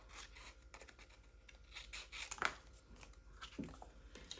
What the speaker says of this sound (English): I'm going to actually cut this, and I'm just going to hand cut it really quickly